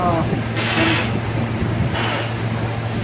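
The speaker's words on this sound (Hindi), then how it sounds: "कूलर लगी जे किछि भी सुना जा नथियो" A steady, broadband whooshing hum of a running air cooler fills the background, with faint voices talking faintly beneath it.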